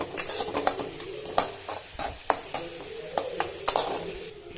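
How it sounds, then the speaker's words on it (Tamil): Onions sautéing in a pan for paneer gravy, with a steady sizzle of frying under repeated sharp scrapes and clinks of a spoon stirring against the metal, close and fairly quiet, no talking. "இது இப்போ நம்ம கொஞ்சம் வதக்கிக்கலாம்"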